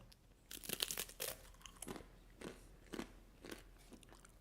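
Crunchy ajwain (carom seed) snack being bitten and chewed up close, a burst of crisp crackling bites followed by several spaced crunching chews, with no talking.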